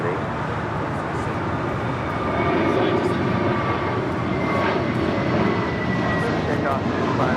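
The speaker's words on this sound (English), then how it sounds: "This is American 1225 taking off to Philly" An American Airlines A321neo takes off from runway 25 right at LAX bound for Philadelphia, a steady loud engine roar that builds slightly and holds throughout, with voices faintly underneath.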